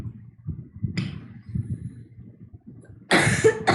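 A woman teaching an online chemistry class for the CSIR UGC NET exam coughs repeatedly in low, muffled bursts at close range, followed by a louder, harsher cough near the end.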